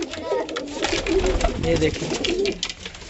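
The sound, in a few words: pigeon cooing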